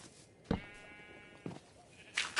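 Minecraft sheep bleating in a game world, two short nasal bleats about a second apart at moderate volume over quiet background, followed by a brighter burst of game noise at the end.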